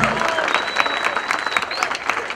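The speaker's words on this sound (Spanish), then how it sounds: "si se van a aplaudir, apláudanse ustedes" Audience applause at a Salvadoran government event honouring a youth band, a dense, steady burst of many hands clapping close by, with a thin whistle running through it.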